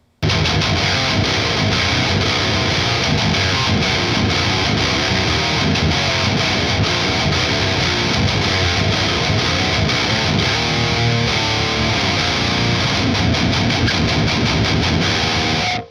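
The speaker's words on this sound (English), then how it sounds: "engage the pre-gain, which is what I like to do because I like distortion." Electric guitar played through an Electric Eye Mud Killer pedal with its pre-gain distortion switched on, giving a loud, thick, continuous overdriven tone that rings steadily for the whole stretch with no talking.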